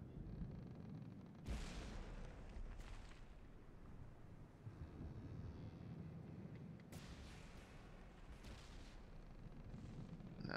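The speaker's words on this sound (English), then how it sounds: "that was a big blast there" A torpedo strikes the Lusitania in From the Depths with a deep, rumbling blast, followed by a second loud explosion a few seconds later. Heavy low-end roar fills the gaps between the detonations.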